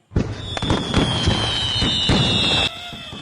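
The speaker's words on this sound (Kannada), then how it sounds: "ಇವಾಗ ನಾನು ಪಟಾಕಿ ಹಚ್ಚಿ ನೋಡ್ತೇನೆ" Firecrackers lit in a cartoon set in village life, bursting as a loud rapid string of pops and bangs with a steady crackling tail, close and continuous before cutting off abruptly near the end.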